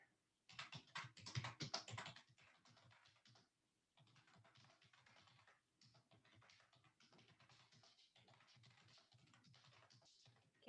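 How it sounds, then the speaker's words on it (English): Rapid, faint clicking of keys on a computer keyboard, with a denser flurry at the start and then steady bursts of typing separated by brief pauses. "Can y'all see me typing?"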